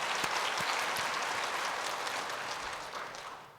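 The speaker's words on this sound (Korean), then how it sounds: "하나님 앞에 다시 한번 영광의 박수" A church congregation at a Sunday worship service gives sustained applause, a broad wash of many hands clapping at moderate distance that fades slightly toward the end.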